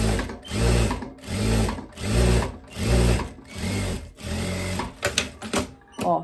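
A sewing machine stitches a seam on a teddy coat in about six steady whirring runs separated by short pauses, close and fairly loud, ending in a few sharp clicks.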